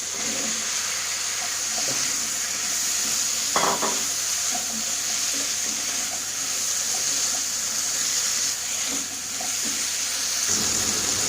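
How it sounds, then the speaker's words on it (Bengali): Diced ridge gourd and potato hit hot oil in a frying pan, giving a steady, continuous sizzle with faint stirring scrapes and one brief clatter partway through. "এই যে দেখছেন ডুমো ডুমো করে ঝিঙে আর আলু কেটে রেখেছি, এটা দিয়ে দিচ্ছি।"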